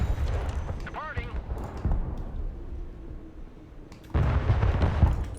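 Mortar rounds and explosions thump and boom in the real-time strategy game Broken Arrow, several heavy blasts scattered amid battlefield noise, with a burst of louder impacts near the end and voices talking over the action.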